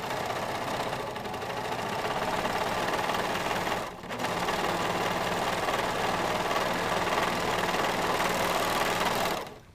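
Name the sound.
serger overlock machine serging jacket lining seams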